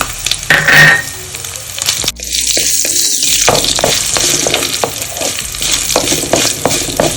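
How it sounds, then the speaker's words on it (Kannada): Dry red chilies dropped into hot oil with reddened urad dal and mustard seeds for a tempering, a loud close sizzle with crackles and spoon scrapes against the pan, no talking. "ಉದ್ದಿನಬೇಳೆ ಕೆಂಪಾಗಿದೆ ಒಣಮೆಣಸಿನ್ಕಾಯಿ ಹಾಕ್ತಾ ಇದ್ದೀನಿ"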